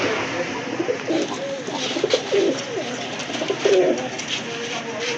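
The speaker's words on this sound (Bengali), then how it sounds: "বিলুপ্তির পথে আরেক জোড়া কবুতর দেখতেই পাচ্ছেন আপনারা" Several pigeons coo in soft, repeated throaty phrases, close and continuous, with no one talking.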